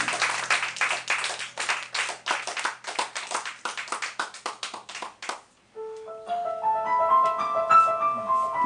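Live audience clapping at an evening poetry event, a rapid, dense round of hand claps for about five seconds that stops abruptly, followed by sustained piano-like musical tones.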